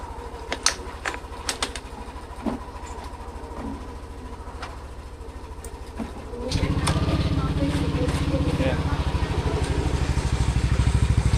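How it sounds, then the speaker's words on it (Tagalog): A Yamaha Aerox V2 scooter with an RSC aftermarket exhaust starts and settles into a steady, throbbing idle while it warms up. Quiet background clicks come first, then a loud, close, continuous engine drone fills the rest. "So, painitin lang natin yung motor natin."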